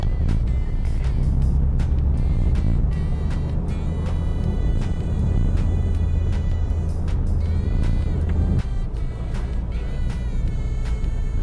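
A Honda Brio Satya E manual car pulls up a slight incline in second gear at about 3000 rpm, giving a steady, loud engine drone heard from inside with constant road noise and no talking.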